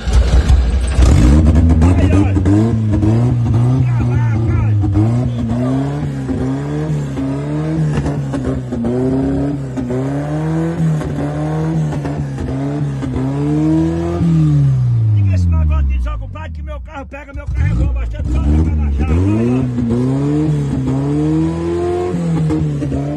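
An old car engine starts and revs repeatedly, rising and falling in loud close bursts, with a brief dip near the middle before climbing again.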